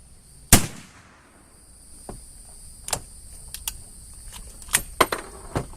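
Rifle shots from an Ishapore 2A1 firing 200-grain cast .308 bullets at a wooden target: one sharp crack, then a string of fainter distant reports and smacks spaced irregularly over several seconds.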